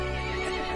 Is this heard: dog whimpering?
no